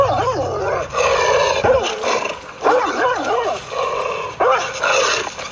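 A small pet dog gives repeated yipping barks and whiny cries in bursts about a second apart, loud and close with brief pauses between.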